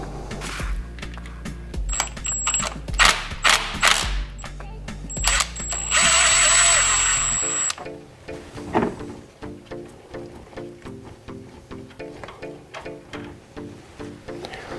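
A hand tool tightens the accessory belt tensioner bolt on an engine, giving a loud close burst of rapid ratcheting clicks, a sustained whirring stretch, then a long run of lighter evenly spaced clicks.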